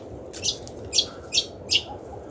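Four short, high bird chirps spaced evenly apart ring out from a distance in a national park, over a steady background hiss.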